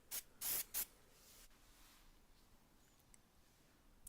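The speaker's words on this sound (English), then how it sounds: "Then I could cover the handle again and spray the other side." Three short hissing bursts from a spray can in quick succession near the start, spraying a leather strop, then quiet room tone with faint small knocks.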